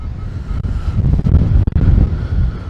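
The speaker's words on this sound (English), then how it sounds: "It's very windy, I'm not sure how much you can hear me." Strong wind buffeting the microphone in loud, gusty low rumbles while metal detecting in a UK field, with brief drops between gusts and no voices.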